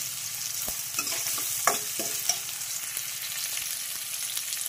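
Broken dried red chillies fry in hot oil for sambar, a continuous close sizzle with a few sharp spoon scrapes and taps as the pan is stirred.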